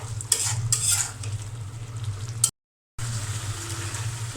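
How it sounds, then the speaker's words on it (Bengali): Radish stir-fried in a pan, a close, steady sizzle with scraping spatula strokes and occasional clinks, broken by a brief silent gap before the frying resumes. "এখানে মূলাটা কষানো হচ্ছে"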